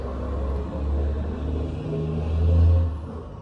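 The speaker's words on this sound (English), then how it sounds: "a moment for the truck" A truck rumbles past close by, a low steady drone that swells near the end as it draws level, with no talking over it.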